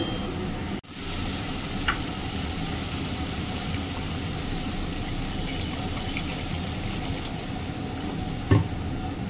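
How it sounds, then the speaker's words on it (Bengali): Pomfret fish curry gravy boils steadily in a pan. A continuous, close, rumbling bubble and hiss holds at an even level, with a brief dropout early on and a light clatter near the end. "তো ঝোলটা ফুটে গেছে"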